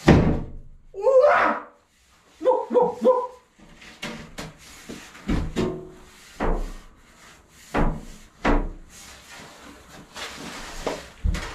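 A mirror held by silicone at the bottom is pried and pulled off a wall during a DIY renovation. Scattered thuds, knocks and scraping sounds mix with a dog barking and people talking nearby.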